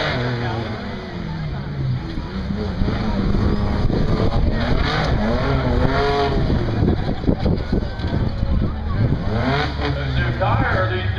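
A Ford Ranger race truck's engine roars and revs, rising and falling as it laps the track at Buck Motorsports Park, loud and continuous under an announcer's talk.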